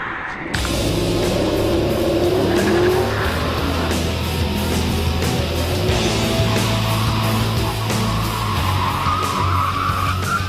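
A Mercedes SLS AMG in a Gran Turismo 5 drag race, with a loud, steady engine roar and squealing, skidding tires throughout, close and continuous.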